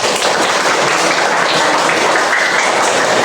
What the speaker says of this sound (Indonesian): tepuk tangan buat Kenza